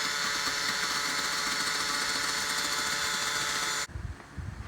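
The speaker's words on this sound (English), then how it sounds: "Okay, I've been using the drill with a bigger wheel." An electric drill fitted with a grinding wheel whines loudly and steadily against a John Deere tractor foot pedal, then cuts off abruptly near the end.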